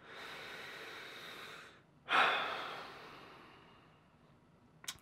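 Deep breathing: a long, steady exhale lasting about two seconds, then a sharper, louder inhale-exhale that fades slowly, close and alone with no talk.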